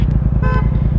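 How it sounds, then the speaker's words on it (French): A car horn gives one short, clear toot in the middle of a city street, heard over a steady thumping low beat. "Oh bah, c'est klaxon là."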